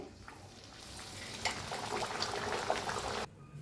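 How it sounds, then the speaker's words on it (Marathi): Puris for bhature fry in hot oil, giving a soft continuous sizzle and bubbling that rises for a few seconds and then cuts off abruptly; fairly quiet and close, with no talking. "आता सगळ्या पुऱ्या अशाच तळून घेते."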